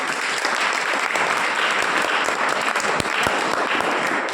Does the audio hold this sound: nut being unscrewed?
no